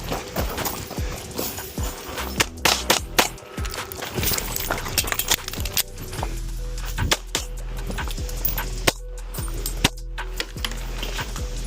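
Pistol shots crack out on a shooting range at targets fifteen yards away, a series of sharp loud reports in irregular pairs and bursts, with clicks and metallic handling between them.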